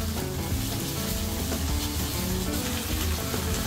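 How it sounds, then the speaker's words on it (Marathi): Home-ground masala paste fries in hot oil with curry leaves for an eggplant and potato curry, giving a dense, continuous, close sizzle with faint background music. "वाटण छान तेलात फ्राय करून घ्यायचं।"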